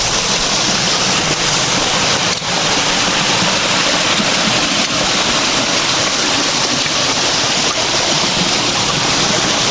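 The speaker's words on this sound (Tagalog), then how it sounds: "Ito mga lods itong source itong tubig itong Calbiga ngan Villarreal Samar" Water at a source in Calbiga, Samar, flows in a loud, continuous rushing wash that holds steady throughout, with no voices.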